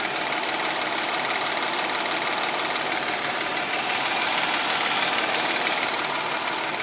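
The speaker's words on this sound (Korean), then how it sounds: "이게 지금 에어컨을 킨 상태의 엔진 소음입니다." A Kia K7 3.3 GDI V6 engine idles with the air conditioning on and the hood open, a steady, even hum with a faint whirring layer on top, close and unchanging, with no voices.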